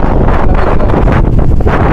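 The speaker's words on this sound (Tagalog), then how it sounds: "Ganitong kalakas yung hangin." Strong wind roars continuously against the microphone, a loud, dense rumble with slight gusting and no voices.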